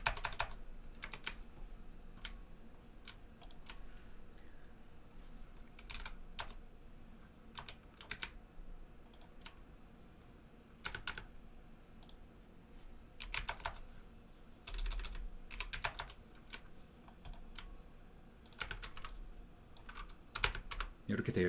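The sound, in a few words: typing on a computer keyboard, pressing Shift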